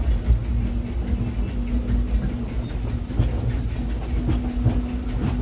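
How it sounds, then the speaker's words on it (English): The Disneyland Railroad train rolling along its tracks, a steady rumble and hum with scattered clacks of wheels over rail joints, heard from aboard at moderate level with no talking. "Please remain seated until the train comes to a complete stop."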